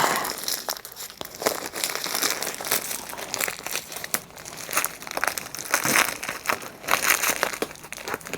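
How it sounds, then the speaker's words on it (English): A plastic bag crinkles and rustles continuously as hands open it and dig through vintage fabrics inside, close and fairly quiet with irregular crackling bursts. "Let's see what's in this plastic bag."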